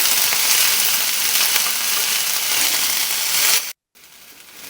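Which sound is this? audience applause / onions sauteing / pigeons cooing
onions sauteing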